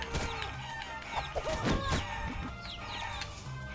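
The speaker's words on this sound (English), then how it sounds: "You got a lot of chicken in here." Chickens cluck and squawk busily in the Guacamelee video game, overlapping calls mixed with game sound effects in a dense, lively stretch with no talking.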